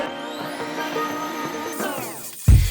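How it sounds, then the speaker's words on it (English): A vacuum cleaner runs in a bedroom with a steady, close mechanical whine that starts winding down near the end, cut off by a short thump. "I'm gonna vacuum and then steam clean it."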